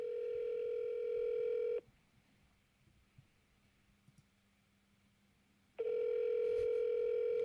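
Outgoing call to a landline with a ringback tone: a steady buzzing ring lasts about two seconds, then near-silence for four seconds, then the ring starts again, clear and alone.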